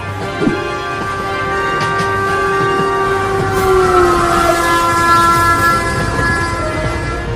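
A cartoon train sounding its horn, with loud, sustained, steady tones over a continuous rumbling rail clatter, close and prominent throughout with no talk.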